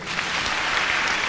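A church congregation applauds in steady, dense clapping that continues evenly throughout, with no voices rising above it.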